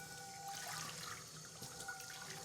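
Water runs steadily from a tap over a cookware pan being rinsed of soapy suds after cleaning baked-on grease, a soft continuous splashing hiss with no talk.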